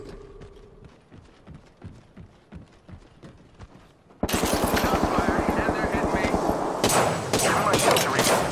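Rapid bursts of automatic gunfire in the Apex Legends battle royale shooter: quiet scattered footstep-like taps first, then sustained loud, dense rattling fire that continues to the end, with a voice briefly heard.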